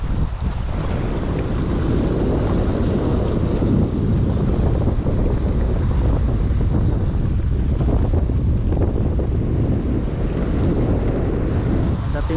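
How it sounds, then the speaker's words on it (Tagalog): Heavy, constant wind at a marina in Saipan roars across the microphone, a dense unbroken rumble with a wash like nearby surf underneath. "Lakas masyado hangin."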